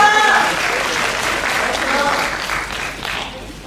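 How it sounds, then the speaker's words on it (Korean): An audience gives a big round of applause at a Korean-language speech contest's group event, sustained clapping with a brief tone at the start and the sound tapering off toward the end. "다시 한번 큰 박수 부탁드립니다."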